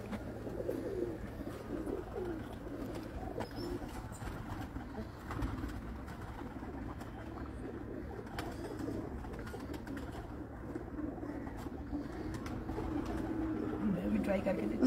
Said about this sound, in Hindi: ये वो कबूतर